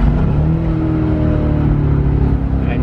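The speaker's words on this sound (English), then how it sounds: "It's got a bigger engine. It's got more cylinders. It's an 8-cylinder." A loud, steady V8 engine drone from inside a moving AMG car, the deep tone climbing gradually as it revs, with no talking.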